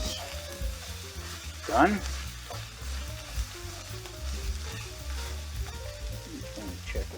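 Sausage frying in a pan gives a steady, close sizzle with soft crackles and occasional stirring scrapes, while a person speaks briefly over it.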